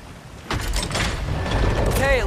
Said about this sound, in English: it looks like this machine is dropping ore into the water trough